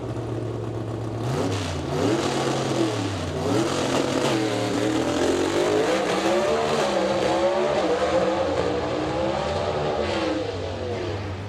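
A highly modified Chevy Camaro race car at a test-and-tune session roars hard through rising and falling revs, loud and continuous, with a brief tire squeal amid the violent engine note.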